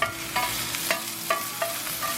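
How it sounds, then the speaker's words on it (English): Onion and garlic sizzle steadily in a hot frying pan, with a spatula scraping and stirring at a regular rhythm close by. "Let's get this onion and garlic sauteed up."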